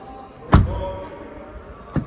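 A 2021 Volkswagen ID4 Pro door closes with one solid, deep thud. A second, lighter knock follows about a second and a half later, close by in a quiet outdoor setting.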